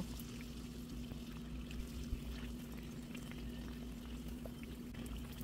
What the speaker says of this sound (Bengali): ঠিক একইভাবে আমি বাকি পুরিগুলো ভেজে নেব।